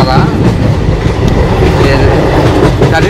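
Passenger train rolling along with a constant loud rumble and rhythmic clickety-clack of wheels, heard from inside a second AC coach.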